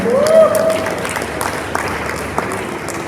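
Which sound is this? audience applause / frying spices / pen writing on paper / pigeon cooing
audience applause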